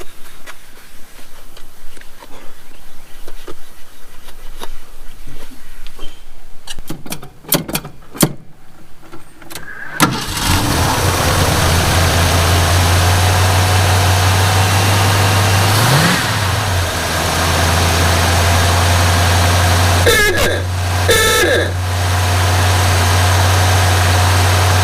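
A 1948 Willys Jeep engine starts after a few clicks and settles into a loud, steady idle close by, with a brief rev midway, running continuously to the end.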